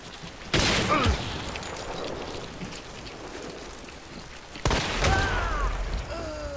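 Two loud gunshots ring out in Hunt: Showdown 1896, a bayou setting, each a sharp crack with a lingering rumbling tail, spaced several seconds apart over rain-like ambience.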